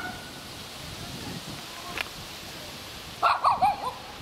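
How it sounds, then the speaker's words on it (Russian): Dogs barking and whimpering outdoors, a brief series of yelps and barks near the end after quiet background ambience. "Ну и собаки пошли."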